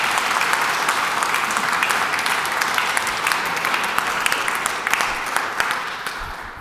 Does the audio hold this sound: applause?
yes